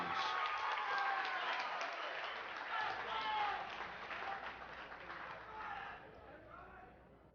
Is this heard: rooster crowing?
no